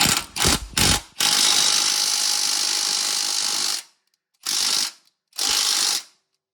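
A ratchet loosening the oil pan bolts on a 2003 Honda Element clicks in a fast, close run, first in a few quick strokes, then one long stretch, then two shorter bursts after a pause.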